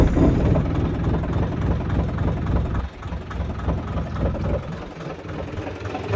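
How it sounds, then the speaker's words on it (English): A sailboat's inboard engine running after starting, a low rumbling chug with steady mechanical knocking close by, briefly dipping in level partway through before settling back into an even idle. "Start engine. Engine in."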